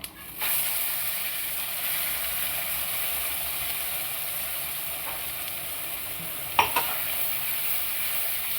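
Sesame seeds roasting in a pan give a steady, close crackling hiss that runs throughout, with a brief clatter of a utensil near the end.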